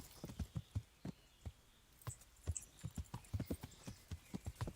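Horse hooves clop at a riding pace in Kingdom Come: Deliverance, a quiet, irregular run of close, thudding steps with no voices over them.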